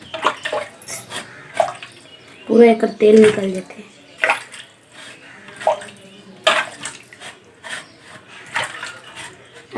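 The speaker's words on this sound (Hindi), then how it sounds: "गर्म पानी करके धोए पूरा निकल जाते" Hot water running and splashing while steel utensils are washed in a household kitchen before Holi, with clinks of metal dishes and someone talking over the intermittent water noise.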